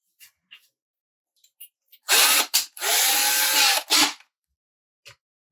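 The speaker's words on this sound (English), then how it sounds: "I need your drill." A power drill whirs up close in two or three bursts, the longest lasting about a second, with light clicks and handling noises around them, while building a quarter-scale Wolverine model.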